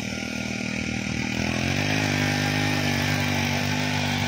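A 63 cc mini power tiller's small engine running close and loud, a buzzy chainsaw-like drone that rises in pitch partway through and then holds steady.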